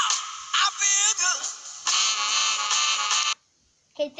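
Several synthetic phone alert tones sound in short bursts and then a longer sustained electronic chime, loud and close, before a brief silence and the start of another tone.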